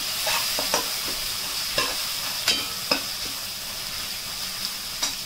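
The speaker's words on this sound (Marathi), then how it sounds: "त्यानंतर सगळे खडे पावडर मसाले, दोन मिनिटं चांगलं परतून घ्या." Whole and powdered spices sauté in a pan with a garlic-ginger paste, making a continuous sizzle broken by regular scraping stirs that tap against the pan every half second or so.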